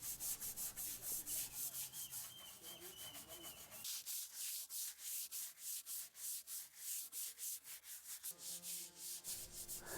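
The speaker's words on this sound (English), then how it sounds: "clean up the layers of dust and grime from the frames so I can see the markings" Dust and grime are scrubbed off old riveted oak boat frames, or futtocks, with a steady rhythmic back-and-forth rubbing stroke, close and continuous.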